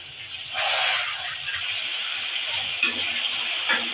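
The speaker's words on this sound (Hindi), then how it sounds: "तेल हमारा गर्म हो चुका, अब हम सारे मशरूम जो है इसमें डाल के फ्राई कर लेंगे।" Mushrooms sizzle and crackle in hot oil in a pan, a steady, close frying hiss with a few brief stirring clatters.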